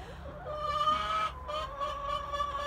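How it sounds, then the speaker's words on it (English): Chickens cluck softly close by over a steady background hum, with drawn-out tonal calls and murmured clucking. "I'm with the chickens"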